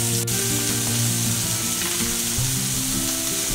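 Scallops sauté in a hot pan with a steady, close sizzle and fine crackle that runs evenly throughout, over a low background hum.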